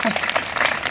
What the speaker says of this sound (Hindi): एक बार अपने लिए ताली बजाओ जोर से